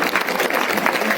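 Brief burst of audience applause at a political supporters' gathering in Rajgarh, Churu district, a dense wash of clapping filling the short moment with faint voices underneath.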